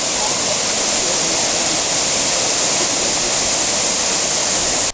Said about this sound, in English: A little bit of water on Long Creek Falls.